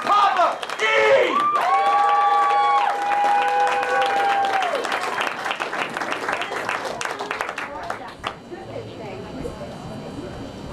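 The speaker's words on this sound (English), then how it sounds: "Please keep your applause going and bring up Erin Livingston and Big Papa E!" An audience at a live show in Denver whoops and cheers as two performers are brought on, then breaks into sustained applause that gradually thins and fades out, with a voice starting to talk near the end.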